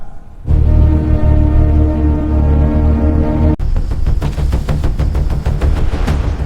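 Gunfire in a police-versus-army shootout drama scene: a loud sustained droning tone gives way to rapid, closely spaced automatic shots that rattle on in a steady stream.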